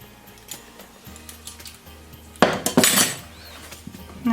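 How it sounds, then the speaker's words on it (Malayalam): A spoon clinks and scrapes against a pot while mango payasam with condensed milk and cardamom is stirred, with quiet light taps early on and a louder burst of metallic scraping midway. "എന്നിട്ട് നന്നായിട്ട് ഇളക്കി യോജിപ്പിക്കുക."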